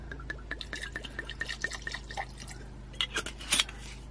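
Spiced Jamaican rum trickling into a glass for a mixed drink with lime, a faint, close run of small drips and liquid splashes against a low background hum.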